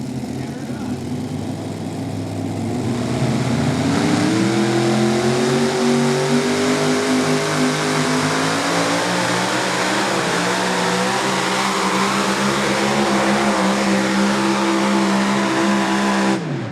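A super modified pulling tractor at a Pro Pulling event in Hillsboro, Wisconsin roars loudly and steadily as its tires spin on the track, engine pitch wavering and climbing, with an announcer's voice talking over it.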